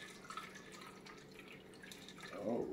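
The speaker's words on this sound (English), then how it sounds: "Let me go ahead and show you the pour." A shaken cocktail poured from a shaker into a glass, a steady soft liquid stream with a thicker gurgling splash building at the end, faint and close with no talking.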